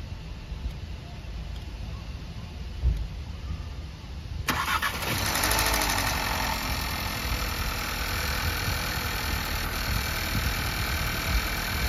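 A car with a fault, stranded at Dzhemete, has its engine cranked and started; after a quiet stretch of low background noise it catches abruptly and settles into a steady, close idle.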